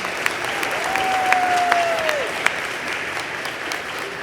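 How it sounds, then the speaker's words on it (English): Warm, steady applause from the audience at a Mountain View eighth-grade promotion ceremony, lasting about four seconds. A brief whistle-like tone rises over the clapping partway through. "Let's applaud for these people."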